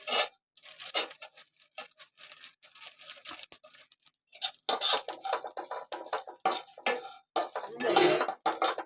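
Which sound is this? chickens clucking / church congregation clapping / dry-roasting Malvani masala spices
dry-roasting Malvani masala spices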